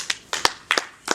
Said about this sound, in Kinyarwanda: Akwiye amashyi.